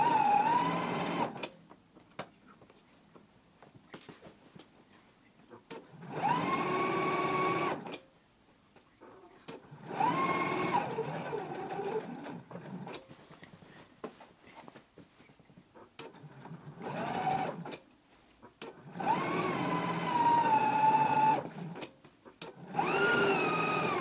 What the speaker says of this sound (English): I'm going to take it to the machine and I'm going to stitch close to the edge